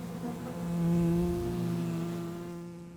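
A wild honey bee swarm gathered on a branch at the edge of a forest gives a steady, dense droning hum, close and continuous, swelling slightly and then easing over three seconds.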